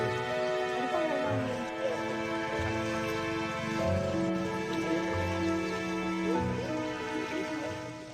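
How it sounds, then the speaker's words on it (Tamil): Steady rain falls during a flood in a waterlogged village, a soft continuous patter heard at low level with faint background sounds and no clear speech over it. "ஊரெல்லாம் தண்ணி பூந்துட்டு ராத்திரிலேருந்து பெய்யுது மழை"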